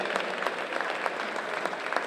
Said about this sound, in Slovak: Videli ste ten potlesk.